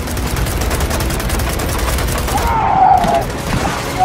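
Gunfire in the video game Gears of War 4, loud continuous automatic bursts with a soundtrack underneath and voices briefly over the top.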